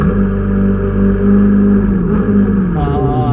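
Ferrari 488 GTB held on brake and throttle in race-mode launch control: a loud, sustained engine drone that holds steady, then sweeps and shifts pitch toward the end, close and dominant.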